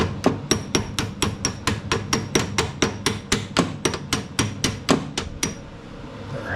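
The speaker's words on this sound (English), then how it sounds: "Take a little hammer and tap the end of it." A small hammer taps the end of a mower pulley shaft on a Husqvarna self-propelled mower, about fifteen sharp, evenly spaced metallic clicks in a steady rhythm, close and alone.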